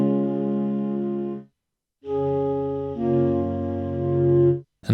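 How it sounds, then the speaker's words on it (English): Dry samples from the Gentle Winds Kontakt library instrument play as sustained, harmonically rich wind-like tones in three held notes or chords separated by short gaps, with no reverb tail and abrupt stops. "if I just play the samples completely dry"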